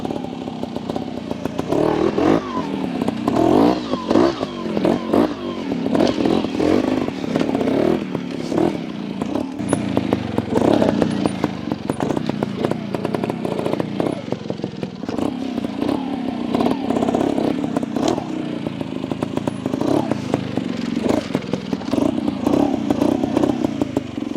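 A 2022 Beta EVO 300 trial motorcycle runs steadily through a greasy trials setting, its two-stroke engine buzzing and revving near and loud with clattering and scraping, alone without talk for the whole stretch.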